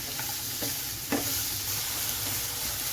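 Sliced onion and carrot stir-fry in a pan, making a steady sizzle with a few distinct scraping knocks from the spatula; close, moderate in level and free of talk.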